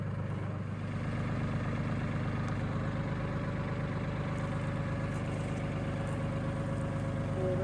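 A farm tractor idles nearby beside a chicken coop, its engine holding a steady, rumbling low throb with no change in pace for the whole stretch.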